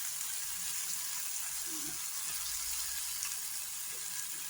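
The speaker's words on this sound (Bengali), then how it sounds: "তো নুন দিয়ে দিয়েছি, এবার এটাকে আমি ভাজতে থাকবো" Mutton curry masala with onion, garlic, tomato, green chilli and salt frying in hot oil, giving a steady, even hiss throughout, moderately faint, with no talk over it.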